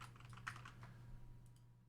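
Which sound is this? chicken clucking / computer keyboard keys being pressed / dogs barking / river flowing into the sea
computer keyboard keys being pressed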